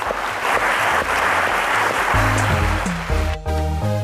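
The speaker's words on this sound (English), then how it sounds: "let's give them another round of applause." Studio audience applause on a televised quiz show, dense steady clapping that fills the first two seconds before a bright musical sting with sustained tones rises over it and carries to the end.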